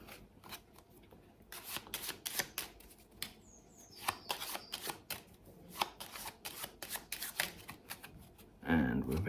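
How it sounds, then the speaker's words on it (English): Someone shuffles a deck of playing cards during a card trick, a run of crisp riffling bursts and slaps close by, with a voice heard faintly in the background. "let's mix that up with a few shuffles into the deck."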